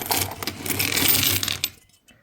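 Kopek coins from a child's savings pour out in one continuous, close jingling clatter that lasts nearly two seconds before stopping abruptly, followed by a couple of faint stray clinks.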